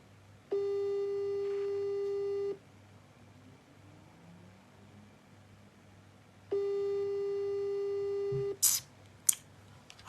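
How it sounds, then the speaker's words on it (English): Two long, steady electronic ringback tones separated by several seconds of quiet hiss, followed by a couple of brief clicks. "phone is ringing"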